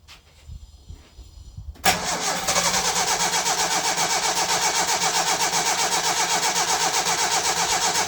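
A 1968 Datsun 1000 shed-find engine is cranked over briefly, then catches and settles into a steady, loud, rhythmic idle that continues to the end, close by with no talk.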